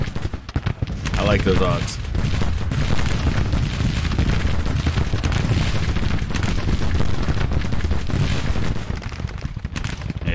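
Massed rifle volleys and artillery booms from a Civil War strategy game, with brigades firing together, roll almost continuously through the whole stretch while a voice talks over the gunfire.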